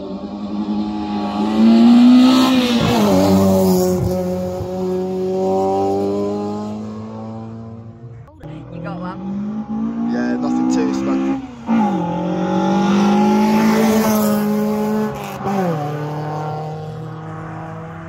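Race cars launch at the Coronet Peak Hillclimb 2022. Loud engines rise in pitch as they accelerate, in two separate surges up through the gears, close by, with spectators talking faintly underneath.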